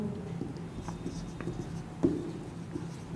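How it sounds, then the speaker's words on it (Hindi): Pen writing an answer by hand on paper, faint scratchy strokes with a few soft taps and one sharper knock, close and quiet in a still room. "तो भाई सिंपल सा मैं लिख देता हूँ आंसर"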